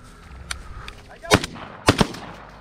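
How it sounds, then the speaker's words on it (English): Shotgun blasts ring out during a Georgia quail hunt, two loud close reports about half a second apart in the latter half, over faint outdoor background with some quiet voices. "Don't shoot me, Sheldon."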